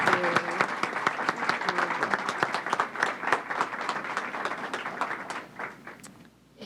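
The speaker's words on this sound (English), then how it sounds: "let's give a Newark round of applause to our Deputy Secretary" Applause for the US Deputy Secretary of Education during a school visit, with individual claps audible within a moderate crowd that thins and fades out near the end.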